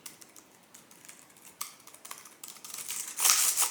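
Typing on an Astrohaus Freewrite Traveler keyboard produces light, quick clicky keystrokes close by at a quiet level. A louder rustle or brush comes in near the end.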